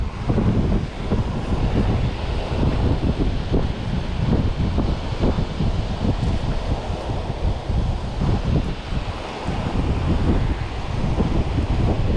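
Strong winter wind on a Northumberland shore buffets the microphone in a loud, continuous roar with gusty low-end thumps, steady throughout with no voices.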